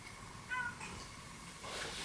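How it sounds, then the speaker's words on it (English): A faint, short meow rises briefly from a quiet room, followed by soft rustling and low background noise. "She's a little camera shy, but you may hear her meowing."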